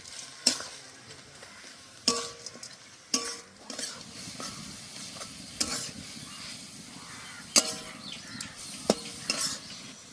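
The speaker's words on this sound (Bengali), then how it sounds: "এবার ভালো করে ভেজে নেব।" Beto shak greens and fried lentil dumplings sizzle steadily in a pan while a spatula stirs, with sharp scraping clicks against the metal recurring every second or two, close and clear, no talking.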